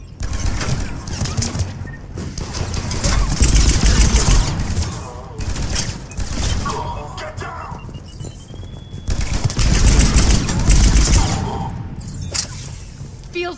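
Sustained bursts of gunfire and a fusillade from a Mass Effect 3 firefight, loud and dense, swelling twice with brief lulls between, mixed with whooshes and mechanical effects, while game voices speak over parts of it.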